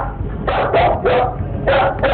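Several sharp barks from a pet dog named Smooch, loud and close, coming in quick bursts with short gaps between them.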